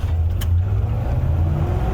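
A Holden Kingswood heard from inside while driving, its engine giving a loud, steady low drone with a slight rise in revs over a couple of seconds.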